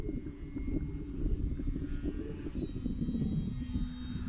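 XFly Glastar RC trainer plane on its maiden flight, a small electric motor droning steadily overhead at moderate distance, its whine shifting slightly in pitch as it passes, with no voices.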